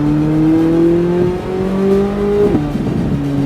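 A Corvette Z06 engine accelerates hard around a race track, its harmonic drone climbing steadily in pitch, briefly dipping as the driver lifts, then pulling strongly again, loud and close throughout.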